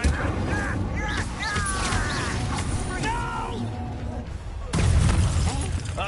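In Hogwarts Legacy, a Confringo blasting spell goes off as a sudden booming burst near the end, following several seconds of voices and busy game sound.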